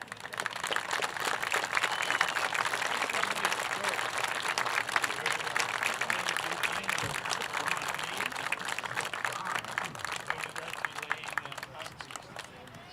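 Sustained crowd applause at a football game honoring a retired FDNY firefighter and his family, steady, dense clapping with some cheering from a large, somewhat distant crowd.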